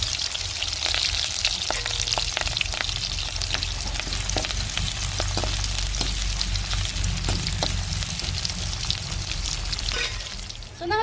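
Mustard seeds, chopped onion and curry leaves fry in hot oil, giving a loud, dense sizzle with scattered crackles and pops, close up and continuous, easing slightly near the end.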